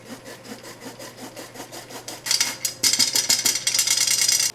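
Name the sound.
sifting flour to make cake flour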